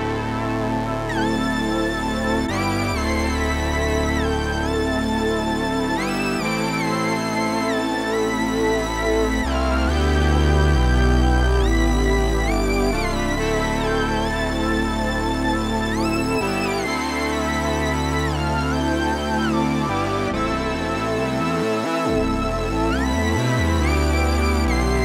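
Synthesized music sample with a bright lead melody stepping over a deep, pulsing bass line, playing loud and continuous with no voices.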